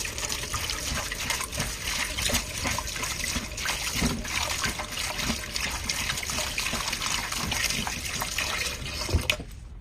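Cabbage leaves are washed under running tap water, a steady close trickle and splash that keeps going without pause for about ten seconds, with no voices.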